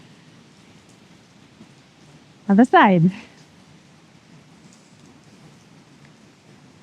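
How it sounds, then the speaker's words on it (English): Rain falling steadily as a soft, even hiss in the background, continuous and fairly faint, briefly interrupted by a short spoken instruction from a yoga teacher. "It's raining."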